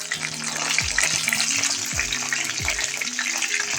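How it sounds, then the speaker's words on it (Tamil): Fish frying in a pan, a busy close-up sizzle and crackle running steadily throughout, with overlapping tonal hums and dropping whistle-like sweeps over the frying. "கொஞ்சம் வறுக்கும். மீன் திருப்பி போடலாம்."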